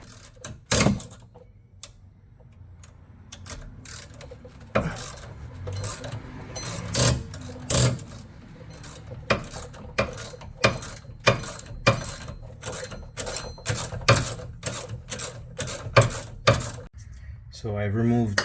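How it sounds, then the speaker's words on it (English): A ratchet fitted with an extension turns the rear wheel hub bolts on a Chevrolet Equinox, giving repeated sharp clicking bursts in a steady rhythm that grow more frequent toward the end, with occasional talk. "you use a 6-inch or 3-inch extension, or as much as you need to have more leverage. So you just made this into a breaker bar, and the ratchet will make it go faster"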